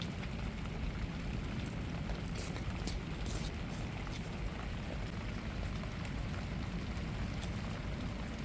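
Rain pours down outdoors on a cloudy morning, a continuous broadband wash of falling water that stays loud and steady throughout, with no one speaking.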